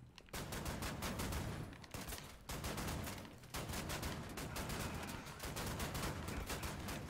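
Enemy gunfire in Wolfenstein: The New Order, sustained rapid automatic bursts that fire almost continuously, broken by a few short gaps, fairly distant and quiet.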